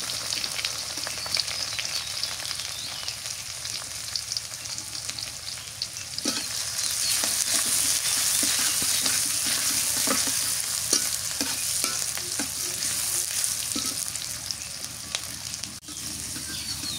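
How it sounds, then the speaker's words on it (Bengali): Cumin and chopped onion fry in oil over a clay stove, a sustained crackling sizzle that swells midway, broken by repeated stirring scrapes and taps. "জিরে দিয়ে দিলাম। পেঁয়াজ কুচি দিয়ে দিলাম।"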